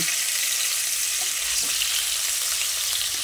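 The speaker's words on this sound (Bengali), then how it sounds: "আমি প্রথমে 4টে মাছ দিয়ে ভেজে নিচ্ছি।" Pieces of katla fish fry in hot oil in a pan for fish korma, giving a steady, loud, close sizzle with faint crackles throughout and no talking.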